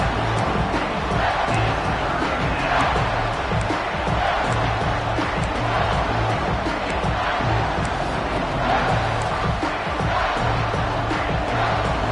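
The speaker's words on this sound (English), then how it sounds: "Decibels rising as the crowd gets behind this defense on 3rd down." A football stadium crowd at a Nebraska versus USC game roars loudly and continuously on a third down, a dense sustained wall of noise with no clear voice standing out.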